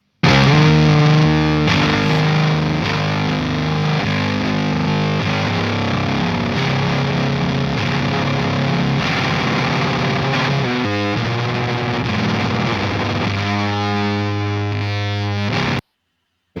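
An electric guitar played through a Kevin Shields Blender signature fuzz pedal, giving a loud, thick, saturated distortion with sustained chords. The texture is dense and wall-like and holds steady for about sixteen seconds, then cuts off abruptly.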